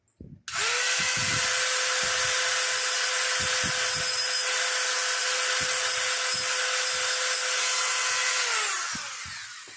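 A Dremel rotary tool grinds glass during flintknapping, a steady high-pitched whine running continuously for about nine seconds with faint scraping beneath, close and alone, before winding down.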